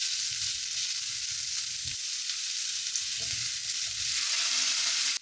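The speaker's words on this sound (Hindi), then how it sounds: "अभी आलू प्याज हल्का सा ब्राउन हो गया तो मैंने टोफू और ब्रोकली डाल दिया है।" Potatoes, onion, tofu and broccoli fry in a pan with a steady, close hiss of sizzling oil and occasional soft stirring scrapes, no voices over it.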